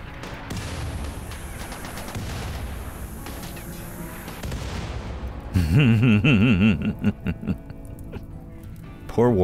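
Mortar blasts and rapid gunfire in the RimWorld video game, a dense stretch of booms and shots followed by louder sharp bursts, with a voice talking over part of it.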